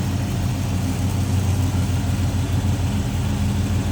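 A 1968 Chevrolet Nova V8 with a 4-barrel carburetor idles steadily and smoothly, a close, continuous low rumble with no revving and nobody talking.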